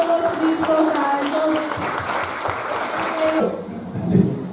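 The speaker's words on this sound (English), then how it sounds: "Please round of applause for these four guys" Audience applause at a football club's away kit launch and Q and A, clapping spread through a room with voices and scattered noise mixed in, easing off toward the end.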